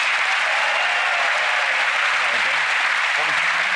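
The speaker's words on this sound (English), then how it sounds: "Give Sarah a big round of applause, ladies and gentlemen." A theater audience at a televised magic show applauds in a dense, steady wash of clapping that stays loud and even throughout, with a few faint voices mixed in.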